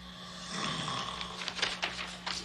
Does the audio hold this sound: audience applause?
no